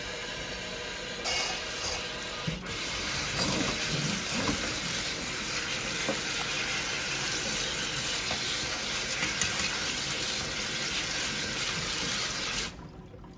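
Sliced potatoes for scalloped potatoes rinsed under a running kitchen tap, a steady loud gush of water splashing into a sink for several seconds with small shifts as the slices are moved, ending abruptly as the flow stops.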